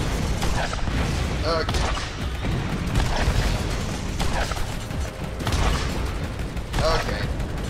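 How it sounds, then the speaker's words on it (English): Gatling turret firing in the Borderlands video game: dense, loud bursts of rapid mechanical gunfire and booms, swelling and fading in waves across the whole stretch, with a player briefly speaking over it. "Gatling turret. Better to shoot at like this."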